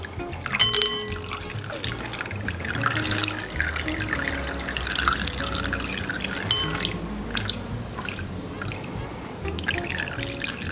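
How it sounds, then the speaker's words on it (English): Cooked vermicelli noodles being drained, with water splashing and trickling steadily, plus scattered drips and a few clinks against a container, close by and continuous. "So we now want to drain our vermicelli noodles."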